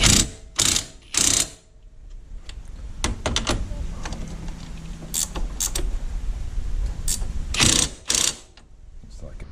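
A ratchet tightens bolts on the rear CV axle of a 2006 Yamaha Kodiak 450 ATV. Rapid, loud clicking bursts come in quick pairs and triplets, with a softer ratcheting stretch in the middle, all close by.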